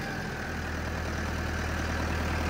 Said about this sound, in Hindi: 1700 आरपीएम पे ही इसमें वाइब्रेशन हो रहा है, बहुत तगड़ा वाला।